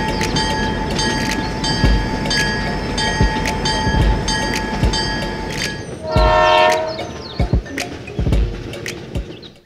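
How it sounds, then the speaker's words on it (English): A miniature toy train runs along its track, with a steady rumbling roll, rhythmic clicks and a sustained horn-like tone, then a brief squealing burst midway, with no talk. "The train continues its journey."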